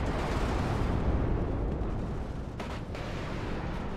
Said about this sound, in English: Let's get another HE bomb.